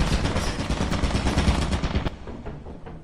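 Rapid gunfire from a gun in the video game Lethal Company, a dense, loud burst of shots for about two seconds that then trails off into fainter scattered reports.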